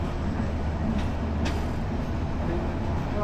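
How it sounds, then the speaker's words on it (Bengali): The Probal Express pulls out of Ramu railway station with a steady, loud rumble of rolling carriages and continuous track noise, heard from on board without any talk. "ছেড়ে দিল এই রামু রেলওয়ে স্টেশন থেকে।"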